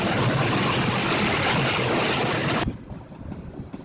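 Train crossing the Kshipra river bridge on the Bilaspur–Kota–Bikaner express, a loud steady broadband rush and rumble with wind noise that drops off abruptly near the end.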